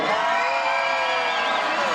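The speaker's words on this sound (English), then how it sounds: "that's a good cheer" A live audience cheers and whoops at a show, a dense crowd roar sustained from start to finish at a loud, steady level.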